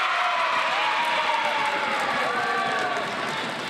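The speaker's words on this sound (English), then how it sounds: "That is the sound of celebration after the plastic bag challenge." Students at a Nebraska public school cheer and shout in celebration, a loud, sustained crowd roar with overlapping voices and yells filling a room, fading slightly at the end.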